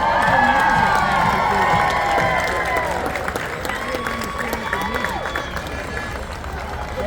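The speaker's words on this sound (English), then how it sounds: "put your hands together for the Lanahan School of Irish Dance" Parade crowd in Newton, New Jersey cheering and applauding as an Irish dance school passes, a loud dense wash of clapping and shouts with children's voices that thins slightly after a few seconds, with talk mixed in.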